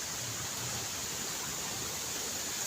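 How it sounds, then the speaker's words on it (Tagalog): Strong river current rushing steadily in a remote mountain area, a dense continuous broadband wash of water with no pauses, fairly close and even in level throughout. "Lumakas ang agos ng tubig oh."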